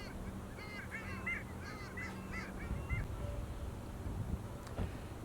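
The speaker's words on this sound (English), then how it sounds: "if you want to hear long-tailed ducks, just come sit right here" Long-tailed ducks call across a winter harbor, a distant flurry of nasal, yodeling honks over a steady wash of wind and water, faint and fading after a few seconds.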